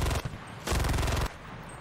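Two loud bursts of automatic gunfire from the World War II shooter Enlisted, each a rapid rattling string of shots about half a second long, separated by a quieter stretch of muffled combat noise.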